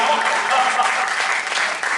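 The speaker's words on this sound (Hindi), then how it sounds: "बढ़िया, जोरदार ताली एक बार फिर बजाओ" Applause from the audience at a Hindi poetry gathering (kavi sammelan) in Roorkee, a dense, steady wash of clapping held at full strength for the whole stretch.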